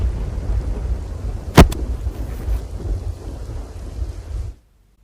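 Heavy monsoon downpour in Bharuch, Gujarat, a dense steady roar of rain with one sharp, loud thunder crack early on and a fainter rumble after, then a sudden cut to silence.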